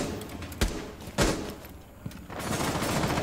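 Muffled gunshots in the tactical shooter Rainbow Six Siege, a few separate sharp cracks spaced about half a second apart, then a denser burst of firing, all fairly distant and soft.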